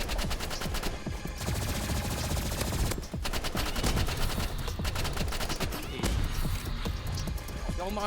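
Rapid gunfire in the Roblox shooter Rivals, dense automatic bursts, near and loud, running almost without pause, with brief breaks and heavy blasts layered over busy game effects.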